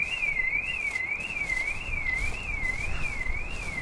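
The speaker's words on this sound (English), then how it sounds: "Oh, that's a car alarm." A car alarm from the horror video game 10 Dead Doves wails in a steady two-tone siren, sweeping up and down at a regular pace with no break and no talk over it.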